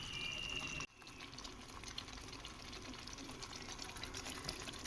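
A little water is poured into fish curry being cooked at home, a steady soft liquid rush and trickle running continuously after a brief pause near the start, quiet and close with no talk.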